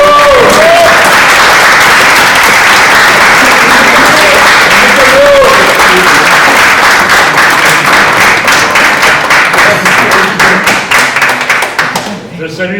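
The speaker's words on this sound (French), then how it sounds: "On les applaudit." Audience applause at a talk in French, loud and sustained clapping from a crowd that carries on steadily for about twelve seconds before thinning out and fading at the end.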